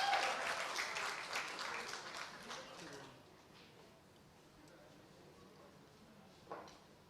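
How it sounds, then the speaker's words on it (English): An audience applauds the author at a book launch, a bright burst of clapping that fades out after about three seconds into quiet room tone with a small stray sound near the end. "please a round of applause for Trisha Das"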